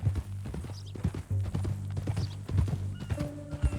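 Horse hooves clip-clop steadily on the ground in Red Dead Redemption 2, a close, rhythmic run of hoofbeats with a brief whinny-like tone near the end and no talking.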